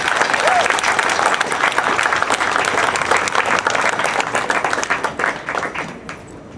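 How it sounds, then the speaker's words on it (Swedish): Enthusiastic audience applause at a political youth rally in Gnesta, Sweden, dense and sustained clapping from a crowd that tapers off near the end. "Ge honom en stor applåd."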